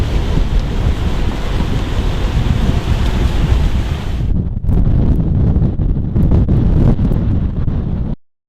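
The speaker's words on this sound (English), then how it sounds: "it's kind of windy" Strong wind roars and buffets the microphone at an Arctic sailing anchorage, a loud continuous rush that suddenly thins midway into gusty, crackling bursts before cutting off.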